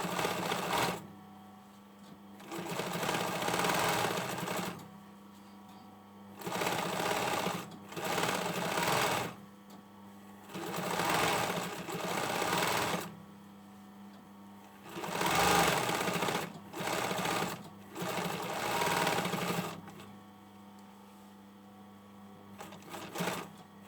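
Sewing machine stitching the hem on a hoodie body and sleeve, worked from the top side: close, steady mechanical runs in bursts of a few seconds each, separated by short pauses, with a faint hum underneath and no talking.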